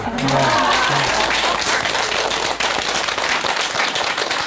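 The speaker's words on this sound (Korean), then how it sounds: "여러분, 박수 공짜가 아닙니다." An audience at a Korean health lecture breaks into loud, dense applause that fills the clip, with a voice briefly heard over the clapping at the start.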